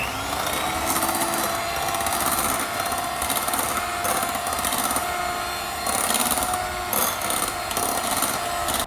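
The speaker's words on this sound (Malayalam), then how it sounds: "അടുത്ത ബൗളിലുള്ളതിൽ അല്പം പിസ്ത കളർ കൂടി ചേർത്ത് ഒന്ന് മിക്സ് ചെയ്തെടുക്കാൻ വേണ്ടി ഒരു ചെറിയൊരു ബീറ്റ് കൊടുക്കാം" An electric hand mixer beating cream mixed with pistachio colouring in a bowl for a pistachio tres leches cake, giving a loud, continuous whirring buzz close by that rises and falls slightly as the beaters move.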